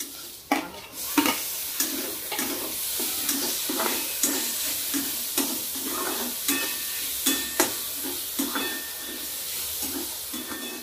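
Onion and tomato fry together in a pan, a bright steady sizzle broken by regular spatula scrapes roughly every half second as the mixture is stirred.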